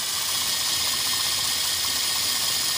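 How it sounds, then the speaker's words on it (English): A LEGO fluid drive coupling prototype runs steadily, giving off a dense mechanical whirring and ratcheting clatter of plastic gears, loud and continuous with no talking over it. "you can hear the RPMs drop as you put the load on the output shaft"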